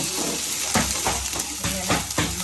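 Ginger garlic paste sautéing in a pan for a mutton pulichadhu gravy, a steady close sizzle broken by several rhythmic scraping stirs of a spoon against the pan.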